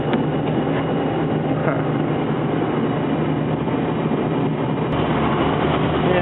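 An engine idles while warming up on a snowy, icy morning, giving a steady, continuous low rumbling drone close by that does not change in level throughout.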